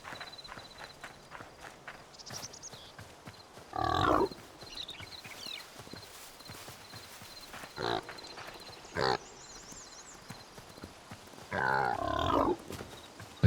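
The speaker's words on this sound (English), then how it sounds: "That's more of a wild pig." A wild pig in the Hytale video game gives short, loud grunts in scattered bursts, alongside soft footstep-like clopping and a faint steady background tone.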